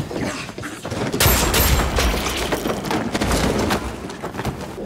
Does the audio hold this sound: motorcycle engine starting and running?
no